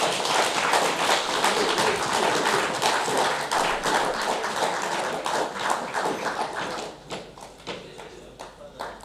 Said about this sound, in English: Can we clap a hand of applause?